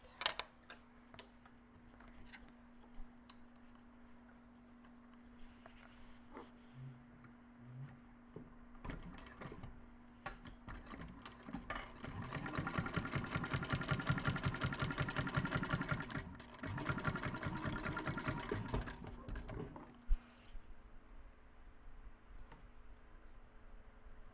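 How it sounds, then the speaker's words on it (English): A sewing machine top stitches fabric on a small bowler bag, its motor whirring in a fast steady run for several seconds, pausing briefly, then running again, with clicks and handling noises before and after. "Top stitch this portion right here."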